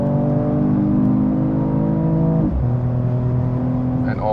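A 2021 Mercedes-AMG E53 Cabriolet's six-cylinder engine pulls hard under acceleration, a loud steady drone rising in pitch, dropping briefly at a gear change near the middle, then climbing again as it keeps building speed.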